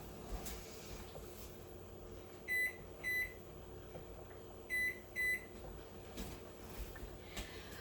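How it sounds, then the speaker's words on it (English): A kitchen timer being set while lobster cooks for a lobster roll, giving four short high beeps in two quick pairs over a steady hum of room noise, with no talking. "I'm going to set the timer so I don't forget."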